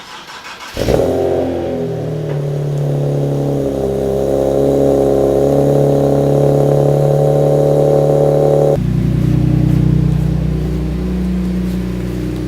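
A Nissan 370Z with about 30,000 miles, left sitting for two weeks, cranks and catches, then settles into a loud, steady idle. The engine note shifts slightly partway through.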